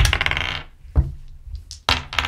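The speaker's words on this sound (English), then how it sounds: "So you roll a dice." Dice clatter down a Lego dice tower, a loud rattling tumble followed by a pause, a faint click, then a second burst of plastic clattering at the bottom, with no voices.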